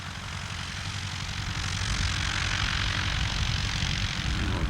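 A 1947 Aeronca Champion 7DC light plane taxiing toward the runway, its propeller engine giving a steady, fairly close drone that grows slightly louder over a few seconds.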